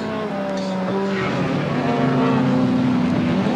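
A 1985 De Tomaso Pantera race car at Amaroo coming down to Mazda Corner, a loud engine roar with shifting pitch as it passes close, with a faint hint of tyre noise.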